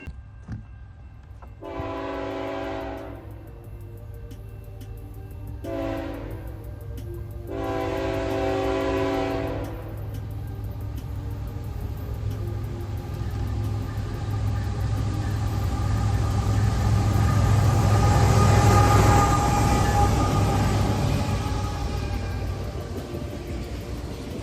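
A CN freight train with loaded automobile frame cars at the back rolls past nearby with a steady heavy rumble, while a horn sounds three times early on, the last blast the longest.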